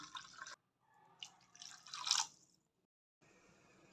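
Water is poured into jaggery for sweet pidi kozhukattai, giving faint splashing and dripping in short bursts, with one louder pour in the middle, then a pause and a quiet trickle.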